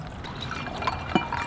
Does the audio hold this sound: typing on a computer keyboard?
no